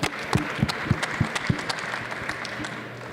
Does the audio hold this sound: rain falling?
no